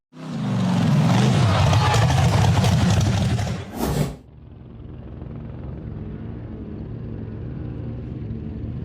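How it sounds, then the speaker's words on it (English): An orange off-road buggy revs its engine hard while climbing a rugged rocky slope in a forest, a loud, rough roar for several seconds that cuts off abruptly into a quieter, steady background rumble. "The orange buggy revved its engine and climbed the rugged rocky slope in the forest"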